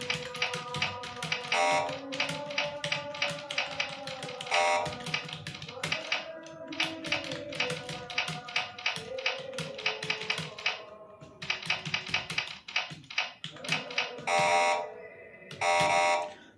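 Rapid clicking keystrokes run throughout, broken by several short, sharp buzzy typing-tutor error tones for wrong keys that stand out loudly over the typing.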